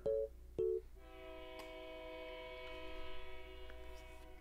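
Train in the video game Five Nights at Freddy's Into the Pit: two short horn blasts followed by a sustained, multi-tone horn chord that swells slightly, fairly quiet overall.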